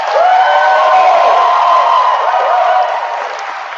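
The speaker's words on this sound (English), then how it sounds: "I'll need you guys to applaud" Live audience at Science Museum Oklahoma applauding during a radio show taping, a broad crowd roar with cheering and whoops layered over clapping, loud and sustained before tapering slightly at the end.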